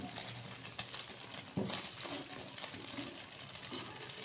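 Gram flour halwa sizzles in hot ghee in a kadai, a soft steady crackle with a few small stirring clinks and a louder scrape partway through.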